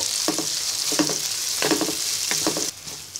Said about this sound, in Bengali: এবার টমেটোটাকে কিছুক্ষণ ভেজে নিব।